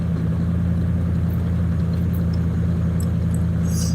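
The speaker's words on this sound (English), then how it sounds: "I'm just driving on 280 in a straight line through it all." Car cruising along Interstate 280 near Mount Vernon, with a steady low road-and-engine rumble heard from inside the cabin, continuous and moderately loud.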